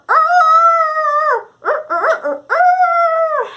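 A human voice imitates a rooster crowing in a storytelling setting, drawing out a long, tonal, howling cry, then a short broken middle phrase and another sustained call, loud and close with no background.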